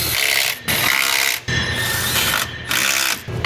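A Milwaukee power tool tightens intake bolts on a 6.7 Ford diesel engine, loud close mechanical ratcheting bursts separated by brief pauses, four runs in quick succession.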